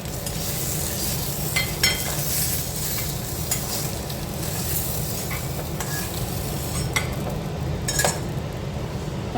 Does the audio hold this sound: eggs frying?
yes